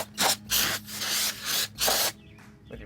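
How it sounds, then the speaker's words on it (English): Several short, loud hissing bursts of brake parts cleaner sprayed onto brake parts in quick succession, close by, with brief pauses between them. "get yourself a fresh microfiber, and then just spray it down"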